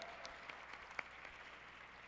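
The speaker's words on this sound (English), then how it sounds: "Look, there's a little cheering section back there." Faint, distant applause and cheering from a small group at the back of a room during a tech-policy annual dinner, a steady patter of clapping with a few sharp claps standing out.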